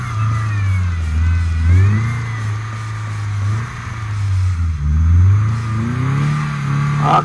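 A Subaru car ploughs through about two feet of deep snow, its engine revving in surges that rise and fall in pitch, fairly close and steady, with no speech.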